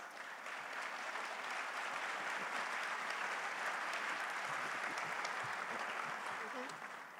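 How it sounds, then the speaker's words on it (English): Sustained applause from an audience at a civic assembly, a dense, even wash of clapping that holds steady throughout. "They will give you the signal to applause. So let's practice."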